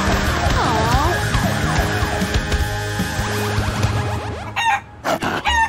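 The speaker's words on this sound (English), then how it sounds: "Now let's find the giant chicken." A cartoon giant chicken clucks and crows loudly and continuously over a busy animated soundtrack, its calls rising and falling, with a few squawking bursts near the end.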